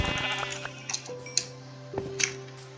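Blocky Minecraft sheep bleat in a video game, several short synthetic baa calls spaced apart over a faint tonal backdrop, with soft clicks in between and no talking.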